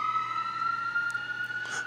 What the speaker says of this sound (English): Fire truck, engine number 5,